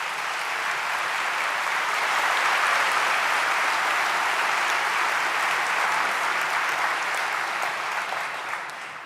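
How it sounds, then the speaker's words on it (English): A graduation ceremony audience gives a brass ensemble a big, dense round of applause that stays loud and even for about nine seconds before easing off slightly at the end. "I think they deserve a huge round of applause"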